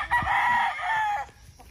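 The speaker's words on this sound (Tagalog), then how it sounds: "Silip natin yung mga brood cocks." A brood cock rooster gives a single loud, close crow that rises and holds before trailing off. The bird is on a farm in Bukidnon during molting season.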